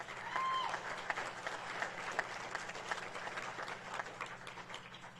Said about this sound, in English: how about a nice round of applause for Rick and Shirley Newcomb?